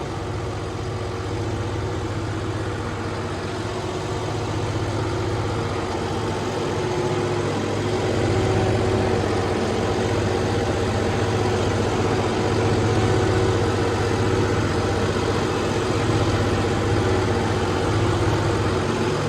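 A tractor engine labours steadily while hauling a loaded trolley up a slope, a loud, continuous low droning rumble that holds at an even strain throughout with no breaks.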